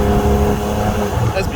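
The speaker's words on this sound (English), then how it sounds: "if you have a straight pipe, it's gonna be a nice exhaust sound from here." A car with a straight pipe exhaust drives past a trackside bench, a loud, close engine roar briefly rising with a voice audible over it.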